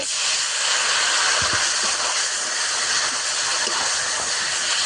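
A little water is poured into a hot pan of chilli powder, coriander powder and ginger paste for a chicken curry, setting off a loud, steady hiss of steam that holds throughout.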